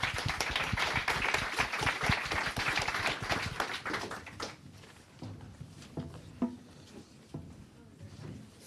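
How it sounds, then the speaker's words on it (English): Applause for panelists at a programmatic advertising event, dense and lively for about four seconds, then thinning to a few scattered claps and small knocks. "If we get a round of applause for all the panelists."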